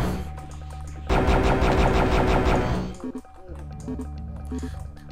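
The Dragon Claw weapon fires in the video game Heretic, in the E3M2 Cesspool level: a loud, dense burst of rapid shots lasting about two seconds, then game music and ambient tones carry on.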